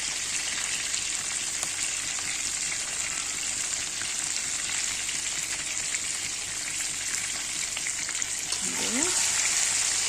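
Potatoes fry in hot oil seasoned with a pinch of salt and turmeric, giving a continuous, even sizzle and hiss close by, with a brief scrape near the end.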